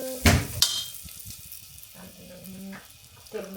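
Food dropped into overheated oil with cumin, giving a couple of sharp splashy bursts followed by a soft, steady sizzle, close and moderately loud.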